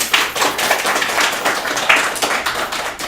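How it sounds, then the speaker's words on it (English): Audience at a Paul Robeson House and Museum parlor talk applauding, a dense steady round of clapping from a room of people, close and continuous with no talk. "give yourselves a round of applause"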